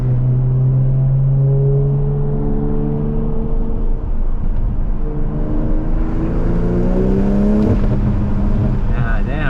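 A tuned Toyota Supra with a B58 turbo engine pulls hard from inside the cabin, a loud steady droning rumble that rises in pitch as it accelerates, with occupants talking over it.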